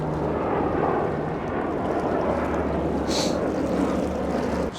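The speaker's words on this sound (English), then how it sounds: "What is it with always the helicopters?" A helicopter's broad rotor and engine roar fills the air steadily overhead at a fishing spot by the water, loud and continuous with no talking.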